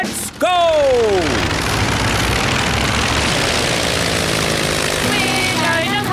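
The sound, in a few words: cartoon airplane taking off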